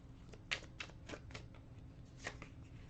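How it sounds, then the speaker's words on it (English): Tarot cards are shuffled close by, several quick riffling bursts in an uneven rhythm with short pauses between them, and no talking. "I'm going to shuffle that again."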